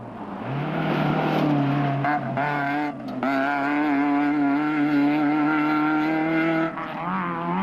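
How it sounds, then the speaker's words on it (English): A Toyota Hilux rally race car at the Diamond Route 200 event, its engine roaring loud and close with rising and falling revs through gear changes, a brief dip in the middle, then sustained high-pitched acceleration. "Nel and de Klerk were being chased by Class E leaders Ian Boshoff and Mia van Wyk in a Toyota Hilux"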